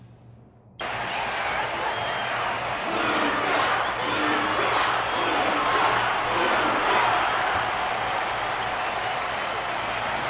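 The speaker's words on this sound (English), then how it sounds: "Their constant applause is a salute to this resilient Belobogian fighter" Crowd in a video game arena applauding and cheering a resilient Belobogian fighter, a dense, steady wash of clapping that starts abruptly and holds loud throughout, with faint chatter mixed in.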